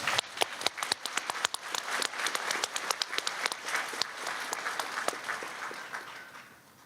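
A crowd at a registered nursing pinning ceremony claps for the adjunct faculty, distinct individual claps standing out within the applause, which gradually thins and fades toward the end.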